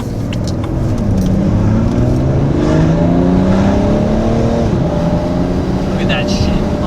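A BMW E90 335d with a tuned transmission accelerates hard. Its diesel engine note climbs loudly and close, then drops abruptly with each quick gear shift before rising again.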